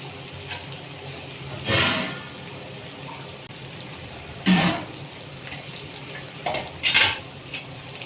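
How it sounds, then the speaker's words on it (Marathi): Bitter gourd being stirred and fried in masala in oil, with a few distinct scraping stirs of a spoon against the pan over a low, steady background sizzle. "कारले छान असे मसाल्यामध्ये परतून झालेले आहेत"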